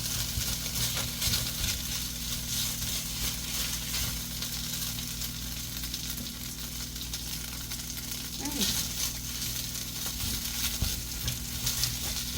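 Rice stir-fried in a pan sizzles and crackles steadily at close range, with occasional scraping stirs and a low background hum, no talk.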